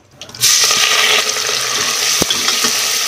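Mustard seeds, finely chopped onion, tomato and curry leaves drop into hot oil for a sambar tempering, a sudden loud burst of sizzling that settles into a steady, close frying hiss with a few clinks.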